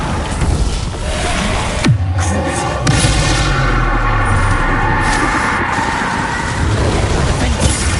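Confringo spell blast in the Hogwarts Legacy video game, a loud booming hit followed by a dense, rumbling, noisy wash that stays heavy throughout.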